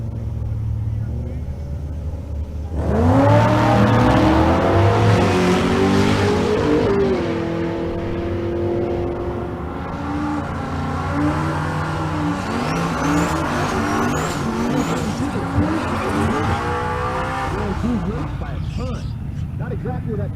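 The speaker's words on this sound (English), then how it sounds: "Right lane is Taylor Yates, the 2016 Charger Hellcat" A 2016 Dodge Charger Hellcat launches down a drag strip at a Nebraska race event, its supercharged engine howling loudly through rising gear pulls with brief shifts, as an announcer talks over the run.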